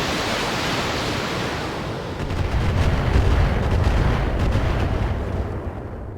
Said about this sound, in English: Here comes another 40 missiles.